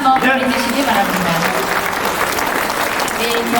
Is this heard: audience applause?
yes